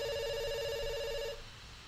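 A telephone rings in the video game Dr Langeskov, a bright, steady electronic trill that holds for over a second and then cuts off, leaving quiet room tone.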